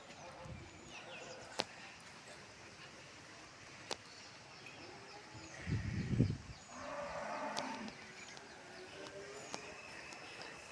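Cows at a temple cowshed let out a deep, drawn-out moo near the middle, fairly close, over a steady background of outdoor murmur, distant birds and a few sharp clicks.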